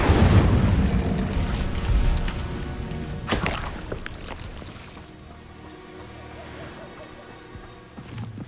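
An Incendio fire spell is cast in the Hogwarts Legacy video game. It opens with a loud, booming fiery burst that fades into a lower rumble, with a second softer thump near the end and game voices underneath.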